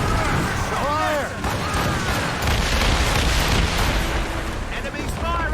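Ship cannons fire in a naval battle in Assassin's Creed Rogue: loud, continuous deep booms and rumbling blasts roll over one another, with crew voices shouting through the barrage.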